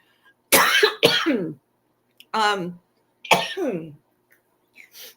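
Several sharp coughs in quick bursts, a close, hoarse voice breaking into short fits separated by brief pauses.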